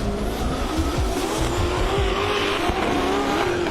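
Drift car powered by a supercharged LS engine, loud and continuous engine roar with tire squeal and skidding at a pro-sport drifting qualifying event, steady and close throughout.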